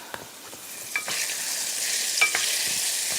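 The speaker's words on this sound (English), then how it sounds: "you can hear the salmon cooking as well" Salmon fillet frying in a pan for a salmon and broccoli pasta, a steady soft sizzle with faint crackles and a couple of light clinks, close and moderately quiet, with no talking.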